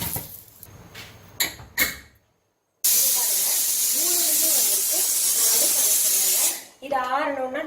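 A pressure cooker whistles with a loud, steady steam hiss lasting several seconds while methi dal (fenugreek leaf kootu) cooks, preceded by a few clatters and a brief silence, then tapering off as a voice speaks.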